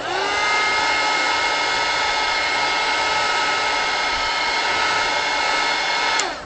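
Electric heat tool blowing hot air onto crayon wax for a crayon portrait, a steady loud whirring blower hum with a high whine, running continuously and then cutting off at the end.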